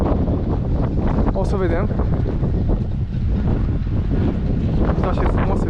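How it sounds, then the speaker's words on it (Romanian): Strong wind buffeting the microphone outdoors in Tromsø in winter, a steady roar running through the whole stretch with a voice speaking briefly over it. "Este foarte mult vânt, zilele acestea din păcate o să avem foarte mult vânt"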